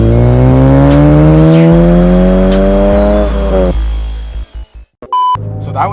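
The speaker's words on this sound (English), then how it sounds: "So that was my first time ever launching a car." Honda Civic Si with a Hondata tune launches hard with traction control off: loud engine revs climb through rising harmonics, then cut sharply, with tire squeal and brief bursts near the end.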